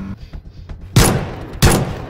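Two loud, sharp gunshots in a film scene, spaced well apart, each with a long reverberating tail after it, over a low background rumble.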